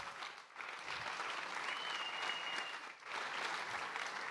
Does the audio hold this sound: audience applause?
yes